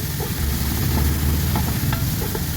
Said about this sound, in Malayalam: നമ്മളെ ഫ്രൈ ചെയ്ത എണ്ണ തന്നെ ഇടുകയാണ് കേട്ടോ കുറച്ച് എണ്ണ നെയ്യും കൂടെ ഒഴിച്ചു കൊടുത്തിട്ടുണ്ടേ നമുക്കിത് നന്നായിട്ടൊന്ന് ഇളക്കിയെടുക്കാം